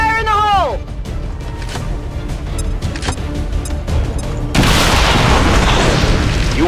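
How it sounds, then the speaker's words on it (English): A tank blowing up in the video game XCOM 2: a deep boom and burst with a falling whine opens the clip, then a few sharp clicks and knocks, and a loud crackling rumble of fire and debris takes over near the end. "You weren't kidding when you said those tanks could explode."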